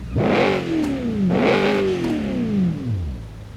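BMW E30 in the BeamNG Drive driving game, engine revving hard under throttle with rising pitch sweeps and quick shifts between climbs, loud and close, no speech.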